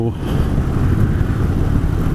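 Harley-Davidson Sportster 883 Superlow motorcycle engine rumbling steadily in Bangalore traffic, loud and continuous with low broadband roar and wind noise, no distinct revs.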